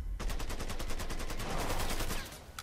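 Rapid automatic gunfire rattles in the video game Mafia III, a loud, close, evenly spaced stream of shots lasting about two seconds before cutting off, followed by a faint metallic click.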